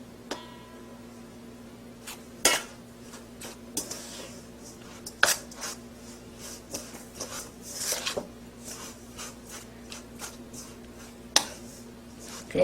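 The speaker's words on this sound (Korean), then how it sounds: "그래서 이렇게 섞어주고요" Ground glutinous rice flour and sugar mixed by hand in a bowl, giving quiet, scattered scraping and rubbing sounds with occasional sharper clinks against the bowl, over a faint steady hum.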